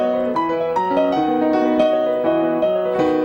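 A piano plays a gentle, steady melody of Amazing Grace with clear sustained chords, moderately loud and alone with no voices.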